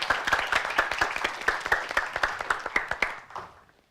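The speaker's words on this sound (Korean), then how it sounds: "박수로 함께해 주시죠." An audience at a high school debate competition claps for a speaker, with sharp, fairly close claps in a brisk rhythm that taper off and die away near the end.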